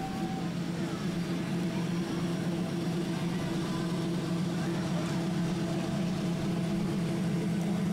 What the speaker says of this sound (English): Newer Camaro rolling down here.